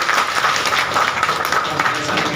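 A classroom of students clap their hands together in a continuous, fairly loud burst lasting a couple of seconds, dense and even with no gaps.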